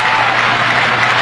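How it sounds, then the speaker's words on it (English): Filipino basketball crowd at the 1991 Manila SEA Games, Philippines versus Thailand, chanting for the Philippines: a dense, steady roar of many voices filling the arena throughout, loud and continuous. "And the crowd beginning to chant for the Philippines."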